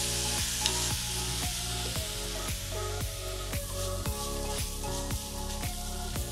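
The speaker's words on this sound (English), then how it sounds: "We're gonna saute up these veggies for about 6 to 8 minutes." Mixed vegetables and mushrooms with Greek seasoning sizzle steadily in a hot pan, a loud continuous fry broken by regular sharp scrapes and clicks of a utensil stirring, with no voices.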